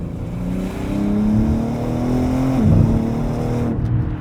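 Mercedes-AMG C63 S engine pulling under acceleration from inside the car, a steady rising drone that climbs in pitch, dips briefly at a shift, then builds again.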